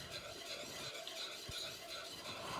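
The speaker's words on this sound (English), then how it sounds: "I'm just going to keep cooking this and stirring this" Turkey gravy thickened with flour is stirred in a pan, giving a faint, steady scraping and soft sizzle with one light knock of the utensil, no voices.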